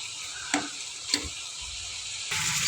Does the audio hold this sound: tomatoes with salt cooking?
yes